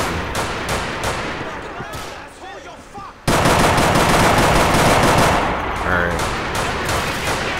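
Rapid automatic gunfire in GTA IV, a dense crackling burst of shots that thins out, then resumes suddenly and louder in a sustained volley with a few distinct single shots.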